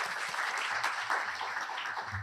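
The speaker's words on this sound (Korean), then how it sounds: "교수님 다시 한번 큰 박수 부탁드립니다." At an international politics association's annual general meeting, attendees give a professor a brief burst of applause. The clapping is soft and dense, heard from within the hall, and is too short to trail off before the clip ends.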